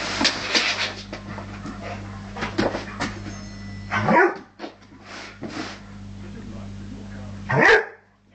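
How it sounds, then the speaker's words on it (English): A Rhodesian Ridgeback dog indoors gives a few short barks and yips amid panting, with a person talking over much of it and a steady hum of a television in the background. "Stop barking."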